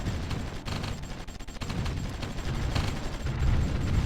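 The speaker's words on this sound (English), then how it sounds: "There we go, a little bit artillery bombardment there" Sustained artillery bombardment from the strategy video game Supreme Ruler Ultimate, a dense, continuous rumble of overlapping gunfire and distant booms that swells slightly louder toward the end, with no talking.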